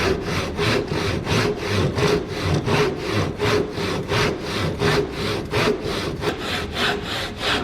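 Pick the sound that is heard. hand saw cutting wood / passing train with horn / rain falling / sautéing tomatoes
hand saw cutting wood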